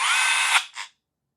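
A Hoto electric drill set to the lowest electronic torque setting spins up with a loud, steady high-pitched whine, then cuts off with a brief second burst before falling silent.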